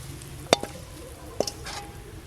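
Vegetable stalks with coconut fry in a pan, a faint low sizzle punctuated by a few sharp clinks of a utensil against the pan.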